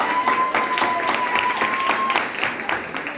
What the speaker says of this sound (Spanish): un aplauso para los padres el día de hoy